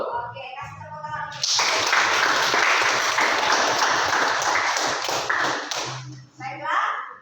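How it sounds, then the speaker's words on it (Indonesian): Students in a classroom chemistry lesson on atomic models break into a burst of loud group clapping lasting about four seconds, preceded and followed by a teacher speaking. "Oke, kasih tepuk tangan."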